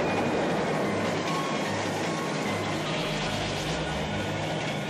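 A continuous, loud rumbling roar of a cartoon train in motion, steady throughout with dense rattling noise and no voices.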